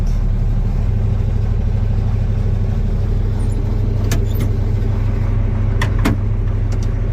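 A John Deere 4430 tractor's engine idles steadily while warming up on a snowy winter day after an ice storm, with a low, even diesel rumble running close and constant throughout.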